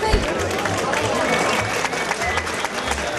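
Audience applause during a long political speech, a dense patter of clapping from a seated crowd, steady and fairly loud throughout with murmuring voices mixed in.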